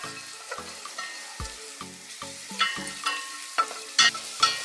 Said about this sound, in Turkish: Şimdi salçayı kavuruyorum.